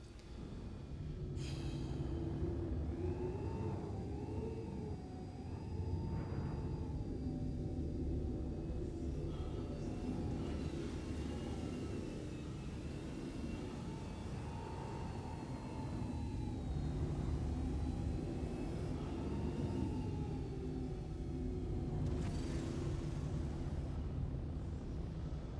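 Spaceship afterburner in Star Citizen, a sustained deep roar with tonal whines that swell and fade over long stretches, steady and loud, with no talk over it.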